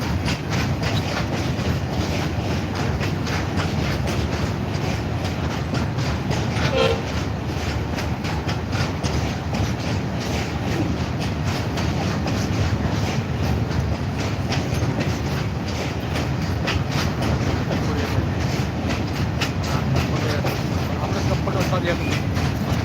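A 52-wagon goods train rolls steadily past at a railway station, a continuous loud rumble with rhythmic clickety-clack of wheels on track throughout, heard up close without pause.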